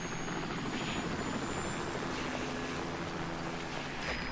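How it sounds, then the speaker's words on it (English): A helicopter in the video game Metal Gear Solid V: Ground Zeroes drones steadily throughout, a broad continuous rotor rumble heard at moderate distance with no talk. "Helicopter."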